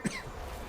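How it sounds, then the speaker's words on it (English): A single short cough sounds quietly, one brief burst at the start followed by low background noise. "Don't know why that made me cough."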